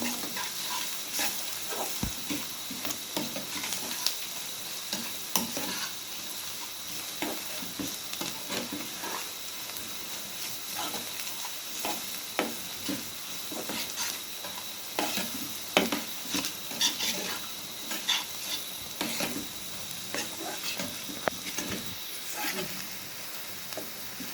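Spices stirred and sautéed for Sylheti beef curry with hatkora citrus, a soft steady sizzle with frequent light spatula scrapes and taps against the pan, close but fairly quiet.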